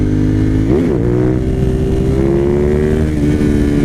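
A Suzuki TL1000R motorcycle with 150,000 miles accelerating hard in second gear for a wheelie, its loud, close V-twin engine note briefly revving up then holding a rising, sustained drone.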